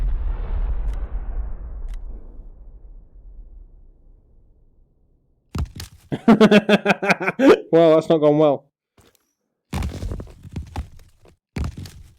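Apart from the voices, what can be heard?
rubble thudding in video game Crunch Element Alpha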